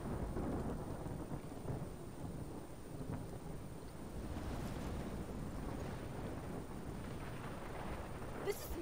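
A steady downpour of rain runs through a thunderstorm in the video game Life is Strange, with low rolling thunder rumbling throughout and a sharper crack near the end.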